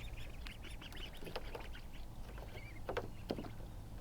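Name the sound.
baby ducks coming out to play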